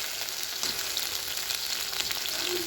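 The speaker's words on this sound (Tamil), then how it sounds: "இப்போ முட்டையை சேர்த்துக்கலாம் முட்டையை சேர்த்துட்டு நம்ம அப்படியே மிக்ஸ் பண்ணி விட்டுக்கலாம்" Eggs hit broccoli frying in a pan, a dense steady sizzle with faint stirring scrapes, close and continuous throughout, no talk.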